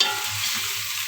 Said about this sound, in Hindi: उसको थोड़ा सा भून लेंगे